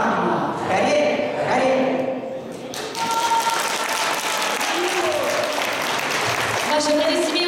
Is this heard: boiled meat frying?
no